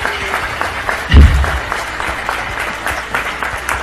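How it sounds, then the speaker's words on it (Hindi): A crowd gives loud applause for a young girl invited up to speak, an immediate burst of clapping that peaks early and then holds steady. "तो इसके लिए जोरदार तालियां इसको"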